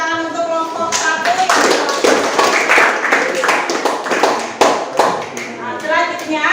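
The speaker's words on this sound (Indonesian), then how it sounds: "berikan tepuk tangan untuk kelompok 1" A classroom of students claps for a group after its physics presentation, with brisk, uneven hand claps and taps close by, mixed with children's voices talking through it.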